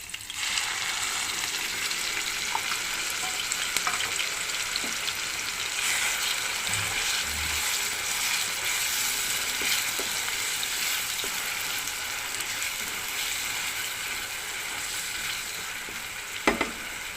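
Onion paste fries in a pan with a constant loud sizzle and crackle, a few soft knocks and one sharper clatter near the end, no voices.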